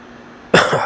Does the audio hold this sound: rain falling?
no